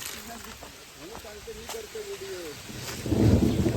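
Thunder rolls on a rural Konkan outing, a deep low rumble swelling loudly near the end after a stretch of people talking.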